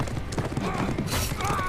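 A galloping horse in the For Honor video game pounds out rapid, dense hoofbeats up close, with a brief clatter of other game noise on top.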